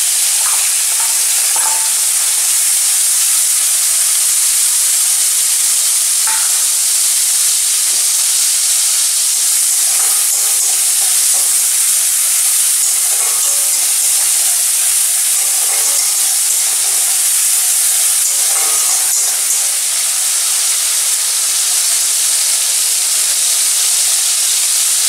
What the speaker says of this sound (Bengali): তেল গরম হয়ে গেছে, এবার আমি চিংড়ি মাছটা ভেজে নেব।